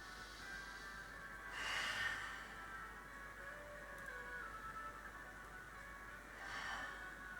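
Two slow, deep breaths during a yoga session, one early and one near the end, each a soft, airy rush over a quiet, steady room hiss.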